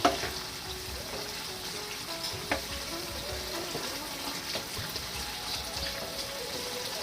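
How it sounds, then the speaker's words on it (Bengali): Red amaranth greens frying in a pan, a continuous low sizzle with occasional faint stirring clicks, close and quiet with no talk. "লবণ ছড়িয়ে একটু নাড়াচাড়া দিয়ে দেব"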